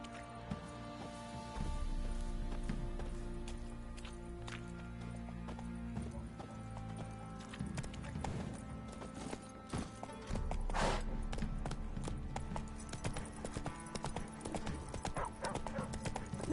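Hooves of Roach, the horse in the Witcher 3 video game, clip-clop at a steady galloping rhythm throughout, with an occasional whinny, over layered game music and ambience.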